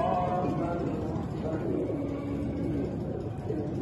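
Pigeons cooing in a loft in Kasur kept by a pigeon fancier, soft low murmurs spread through a steady, noisy background, with a voice likely talking over them.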